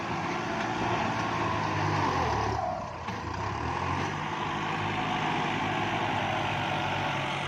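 A Kubota tractor engine runs steadily while the tractor drives over field embankment work, a loud, constant diesel drone with a slight dip around the middle and no talking.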